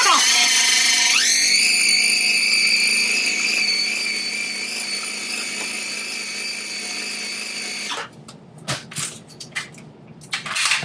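A food processor whirs at high speed, blending a healthier cheesecake filling with a loud, steady motor whine that runs for about eight seconds before stopping, followed by scattered knocks and clatter.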